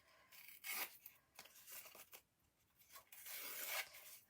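Scissors trimming a thick line of card for a handmade male greeting card, a few quick crisp snips and rasping cuts in bursts, close and moderately loud with no talk.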